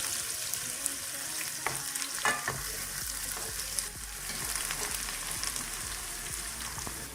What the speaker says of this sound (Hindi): आपने प्याज को सिर्फ 1 मिनट के लिए फ्राई करना है